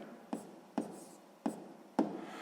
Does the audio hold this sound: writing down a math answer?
yes